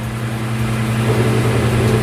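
A steady, loud mechanical hum with a low droning tone from the cooling fan of a Steam Deck handheld gaming console whirring close by; no speech.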